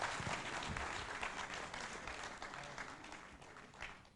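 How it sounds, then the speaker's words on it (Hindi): A crowd at an all-India Urdu poetry gathering in Patiala, Punjab, in 2016 applauds to welcome the poet Tariq Qamar; continuous, somewhat distant clapping carries on evenly throughout, without talk. "तारिक कमर साहब को एक बार और भरपूर तालियों से उनका इस्तकबाल करें।"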